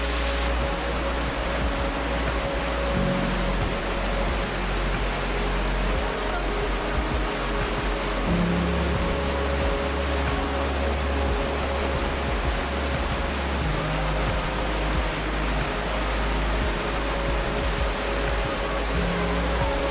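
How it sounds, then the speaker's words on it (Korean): Loud, steady roar of a large waterfall inside a natural cave, with heavy volumes of water crashing and echoing off the rock walls, a dense continuous rush filling the whole stretch. "동굴 내부에 이렇게 수량이 많은 것도 특이하고 울림이 커서인지 폭포 소리가 상당히 크게 들렸습니다"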